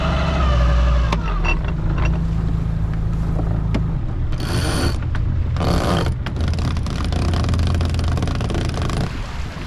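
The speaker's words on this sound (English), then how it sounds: "I think it's time to kill that engine" A sailboat's engine runs on a busy Amsterdam waterway during the SAIL Amsterdam event, a loud, close, steady low rumble whose tone shifts partway through.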